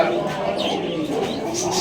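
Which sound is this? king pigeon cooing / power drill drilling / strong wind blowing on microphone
king pigeon cooing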